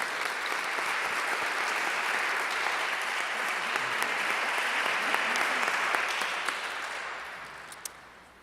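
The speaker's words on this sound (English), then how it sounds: "Let's give him a round of applause." Steady audience applause at a civic event announcing a new venue for the Unity Jam in Louisville, a continuous bright patter of many hands that fades out near the end.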